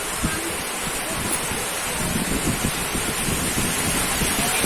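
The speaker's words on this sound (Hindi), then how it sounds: "बारिश होने लगी है" Rain falling steadily outdoors, a dense continuous hiss with low rumbling gusts, fairly loud and unbroken throughout with no voices.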